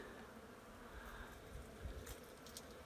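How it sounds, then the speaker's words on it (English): A faint, steady hum of European honeybees buzzing in the distance among madrone, toyon and manzanita, low and continuous. "Can you guys hear the bees? Sounds like a power plant. See? European honeybees."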